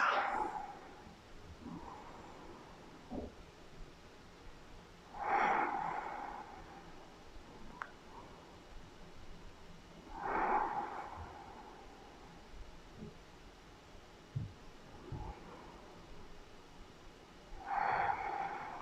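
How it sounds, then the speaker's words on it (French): Slow, deep breathing while holding a yoga pose, with audible nasal inhales and exhales recurring roughly every five seconds, close and soft against a quiet room. "profitez de quelques respirations dans la posture"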